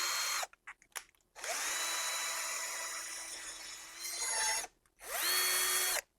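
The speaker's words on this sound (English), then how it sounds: "stick it on the drill" A power drill fitted with a wire brush whirs loudly in several bursts against rusty metal, revving up and holding a steady high whine, with short pauses and a gritty scraping texture between runs.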